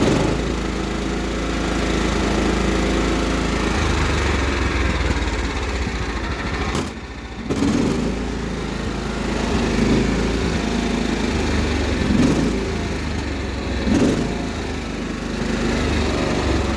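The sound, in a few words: Cub Cadet 1330 lawn tractor engine surging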